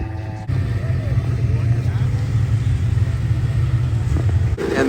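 A Crossfire snowmobile in a lake-day grudge race roars past with a loud, rumbling engine that starts abruptly and holds steady for several seconds before cutting off. A voice talks over the engine noise.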